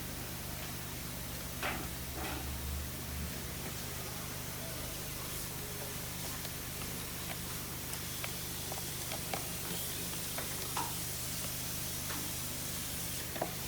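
Diced Congo pepper and garlic sizzle in a pan as a constant, soft, even hiss with faint crackles and no talk.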